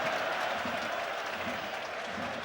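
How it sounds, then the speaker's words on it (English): A football stadium crowd at a Champions League qualifier between Dinamo Zagreb and Arsenal applauds a referee's ruling, producing a broad, steady roar of clapping and murmur heard from a distance. "Warmly received ruling by the crowd"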